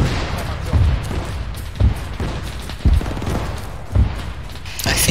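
Booming gunfire in the video game ARMA 3, heavy shots landing roughly once a second over a dense battle din, with voices talking over the fighting.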